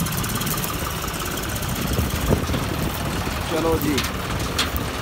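A John Deere 5210 tractor engine runs steadily with a knocking diesel idle as it is put in gear, loud and close, with someone speaking briefly over it.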